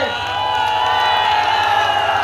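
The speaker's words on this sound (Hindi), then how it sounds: "जोरदार ताली बजाकर स्वागत करें।" A rally crowd in Ballia cheers and applauds loudly in a continuous roar, with whoops and shouting rising over steady clapping.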